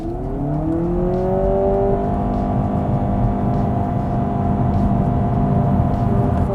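A 2025 Honda Civic Sport Touring Hybrid launches hard in sport mode with traction control off, its engine droning loudly and rising steadily in pitch as it accelerates, with no talk over it.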